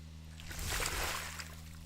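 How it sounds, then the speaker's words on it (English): Water sloshing in a gentle swell that rises and fades, with liquid splashing and trickling up close. "the other one is just some water sloshing."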